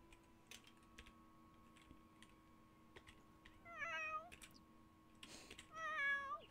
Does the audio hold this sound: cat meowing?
yes